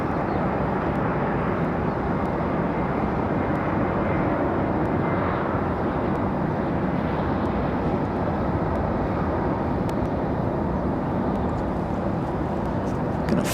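An Airbus A321 comes in to land at Raleigh-Durham International Airport, a loud, continuous, broad roar of jet engines and rushing air that stays steady and close throughout.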